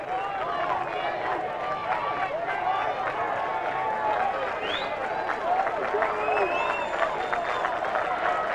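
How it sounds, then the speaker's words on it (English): Fans at a 1998 Illinois high school Class AA baseball championship game applaud their team in the stands, a steady wash of clapping and crowd noise with scattered shouts and whistles under a commentator's voice. "The Andrew faithful applauding their team."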